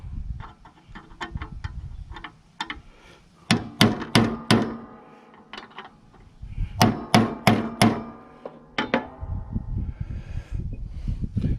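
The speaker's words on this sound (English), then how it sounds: "I'm going to take a chisel and nick up the ends of these threads so that the vibration won't cause them to come loose." A hammer driving a chisel to nick the thread ends of bolts on a mower deck: clusters of sharp, ringing metal strikes in quick bursts, close and fairly loud, with handling clatter between them.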